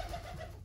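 An injured, rescued rock pigeon with a hurt leg gives a brief, soft, low coo up close.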